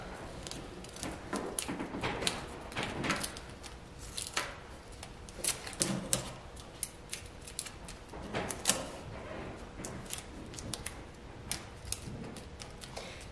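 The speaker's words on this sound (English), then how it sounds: "So I'm gonna take that second piece of tape and just keep twisting it around." Tape being twisted and wrapped around a straw for a balloon racer, a run of close, crinkly rustles and small sticky crackles in irregular bursts, no talking.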